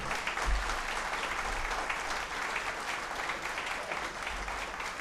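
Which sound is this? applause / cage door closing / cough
applause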